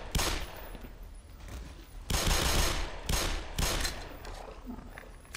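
A gun fires in the Black Mesa video game, loud bursts of rapid automatic shots with short gaps between volleys, close up and with no talking.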